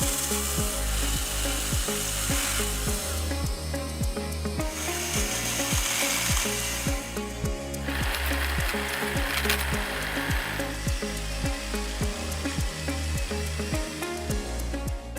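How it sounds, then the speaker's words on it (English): Cobra cordless pruner and hedge cutter from the MT40VXKIT multi tool kit cutting a hedge: a loud motor whine with rapid rhythmic chopping and snapping of branches, repeating steadily, close by. "both the pruner and the hedge cutter make a really good job and make it easy to cut your hedges and do your pruning"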